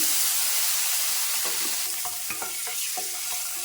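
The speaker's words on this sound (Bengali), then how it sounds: "এখন আমি নেড়ে সেড়ে ডিমটাকে বেজে নেব" Boiled eggs frying with turmeric and salt in a pan, a steady bright sizzle with several clinking stirs of a utensil toward the end, up close and without speech.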